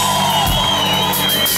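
A live concert crowd at a show at Mascotte in Zurich cheers and whoops loudly and continuously, with scattered shouts rising over the dense roar.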